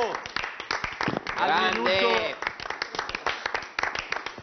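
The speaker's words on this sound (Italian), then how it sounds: "Applauso a Chiellini." Rhythmic clapping at a football stadium during Juventus vs Lazio as Chiellini leaves the pitch, quick separate claps close by mixed with crowd noise, under someone speaking loudly in Italian through the middle.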